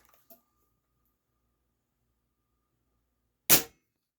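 Webley and Scott Stingray II .22 air rifle fired once: a single sharp, close crack with a brief decay, alone in near silence after a faint click.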